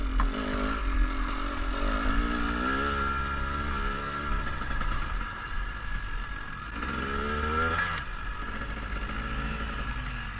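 A KTM 300 two-stroke dirt bike engine drones steadily while climbing a hill on a trail ride along the Trask River, its pitch rising and falling through a low, lugging, tractoring pull, close and continuous with no talking.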